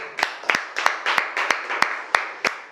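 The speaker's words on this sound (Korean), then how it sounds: "자, 네, 박수 쓰세요" A comedy club audience at a comic-reaction lecture claps in a steady, even rhythm, about nine sharp claps in quick succession, clear and close with no talking over them.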